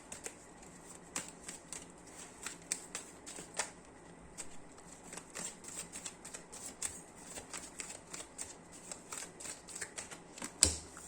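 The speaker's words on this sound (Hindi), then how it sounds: "मैं कार्ड्स कैमरे के सामने ही शफल करता हूं" Cards shuffled by hand during a tarot-style reading, a quiet run of light riffling flicks and soft taps repeating irregularly, close and fairly faint, with a sharper snap near the end and no talking.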